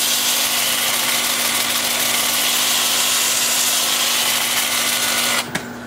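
A wood lathe spins as a plum crotch bowl is sanded with a small power sanding disc, a loud continuous whirring hiss that ends with a brief knock.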